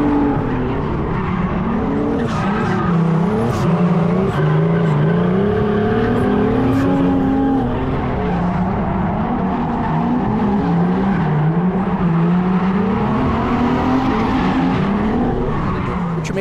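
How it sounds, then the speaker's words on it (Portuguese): Drift cars at the Interlagos car festival in Brazil, with continuous loud engine roar and tire squeal running the whole time, steady and close, with faint crowd voices underneath. "Gostaria de mostrar para vocês lá o drift rolando"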